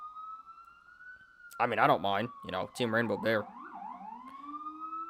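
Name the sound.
police sirens passing outside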